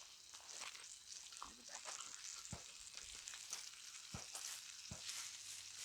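Butter melting in a hot pan for lamb ribs gives a steady, fairly loud broadband sizzle throughout, with a few sharp pops and clicks scattered across it.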